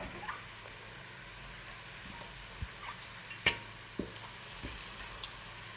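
Chicken pieces sizzle faintly in a pan for a pepper chicken curry, a soft steady crackle with occasional small clicks and scrapes as they are stirred.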